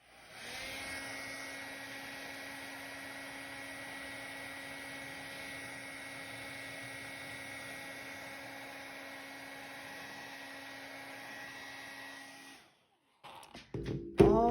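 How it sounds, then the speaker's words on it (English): Blow dryer heating an iron-on design, a steady close whirring hum with a high whine that runs for about twelve seconds, then cuts off, followed by a few brief handling clicks. "you can take the blow dryer"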